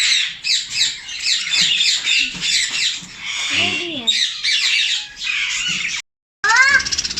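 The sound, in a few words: ring-necked parrots squawking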